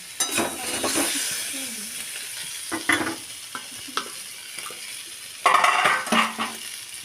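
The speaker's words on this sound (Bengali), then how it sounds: "এখন আমি এই সবজিগুলোকে ভালো করে ভেজে নেব" Mixed vegetables sizzle in hot oil in a pan while a utensil stirs them, with intermittent scraping and clinking against the pan and a louder burst of frying near the end, close and without talk.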